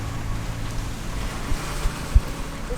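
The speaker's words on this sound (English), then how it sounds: "The wind is blowing at 24 knots ish and kind of staying there." Offshore wind of about 24 knots and moderate seas roar around a sailboat on an overnight passage off Florida, a steady windy rush with low thuds of waves against the hull.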